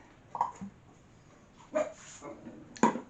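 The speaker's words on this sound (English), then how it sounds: "Sorry about Mason and barking." A dog barks a few times indoors, short separate barks with gaps between them, moderately close, no talking.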